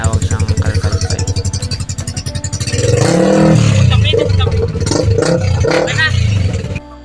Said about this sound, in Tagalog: Kinuha lang talaga yung laman ng pipe na yan sa loob para maging malakas yung tunog niya.